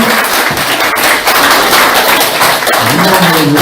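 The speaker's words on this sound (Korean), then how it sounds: "다시 한번 큰 박수 부탁드리겠습니다." Big round of audience applause at a Our Republican Party Gyeonggi provincial members' meeting, loud, dense and continuous clapping from a close crowd filling the whole stretch, with scattered sharper claps.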